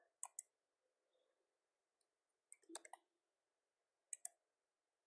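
Computer keyboard typing as data values are entered: short bursts of crisp key clicks, two quick taps near the start, a cluster of several around the middle and another pair near the end, close and quiet with silence between.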